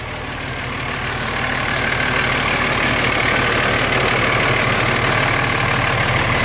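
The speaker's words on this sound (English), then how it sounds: "engine sounds good" A Cummins diesel engine swapped into a Ford truck idles with a steady, loud rumble, close by and continuous, slightly rising in level at the start.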